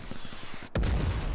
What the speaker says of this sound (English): Oh my gosh, artillery.